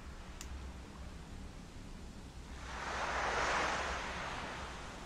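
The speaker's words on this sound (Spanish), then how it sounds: "Escucho el agua." Ocean surf from the Yuppie Psycho video game washes in as a soft, steady roar that swells into one louder breaking wave midway, then eases back, with no voices over it.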